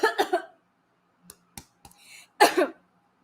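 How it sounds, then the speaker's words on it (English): A few sharp coughs, with a single clearer cough near the end, close by amid near silence. "He did a coughing"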